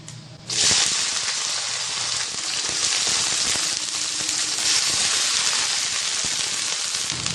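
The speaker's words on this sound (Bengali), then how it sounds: "এবার দিয়ে দেব কেটে রাখা সিম আর ফুলকপি" Cut flat beans and cauliflower hit hot oil with a sudden loud sizzle that starts half a second in and then holds as a steady, bright frying hiss right to the end, with no voices.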